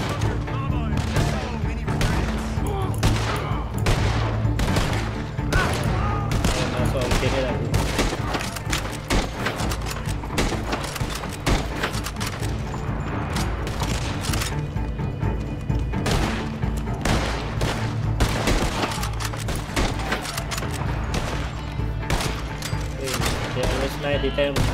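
Rapid gunfire from dual Mauser pistols in the Red Dead Online video game during a fight at Fort Mercer, with dense overlapping shots and bursts continuing nonstop alongside in-game sounds.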